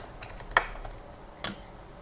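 Two distinct metallic clinks as a filter basket is set into an espresso portafilter, close and fairly quiet, separated by about a second with faint background noise.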